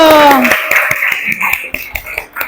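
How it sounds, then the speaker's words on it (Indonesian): A class of high school students claps their hands, with several sharp, loosely spaced claps ringing out after a voice briefly fades at the start. "Tepuk tangan dulu."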